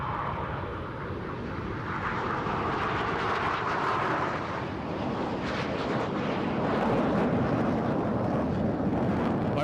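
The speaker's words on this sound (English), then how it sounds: "the aircraft now taking off for a display a little later" Jet aircraft of the Surya Kiran aerobatic team take off at an air base during Air Force Day celebrations, a broad, steady roaring rumble with wind noise, swelling slightly toward the end and heard alone without voices.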